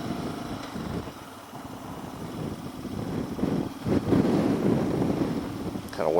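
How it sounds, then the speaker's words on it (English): Wind buffets the microphone on a motorcycle ride at sunset, a steady broadband roar that rises and thickens toward the end, with no talk over it. "It's actually very windy out here."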